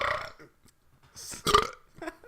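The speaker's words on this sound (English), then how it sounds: "it's been a minute since I've had a good burp on the podcast" A single loud, rough burp erupts from a podcast host mid-conversation, close to the mic, with brief talk-like sounds around it.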